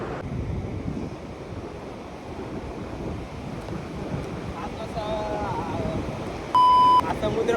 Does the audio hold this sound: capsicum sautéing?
no